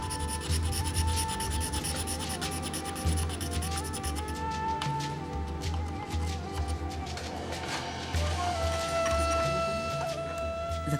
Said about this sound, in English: Each piece of mother of pearl is then finely scraped in order to restore its brilliance.